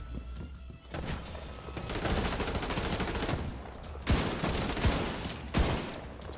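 Sustained gunfire and shotgun blasts in the video game The Division 2, a dense run of rapid shots with a few louder bursts near the end, loud and without talk.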